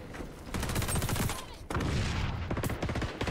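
MP7 submachine gun fire in the video game XDefiant: loud rapid automatic bursts up close, two dense volleys split by a brief gap, with game effects layered over them.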